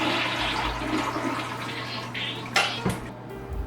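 A toilet flushes nearby with a steady rushing of water, the tank's water supply pipe closed off, ending in a few gurgles and knocks as the bowl drains, over a faint low hum.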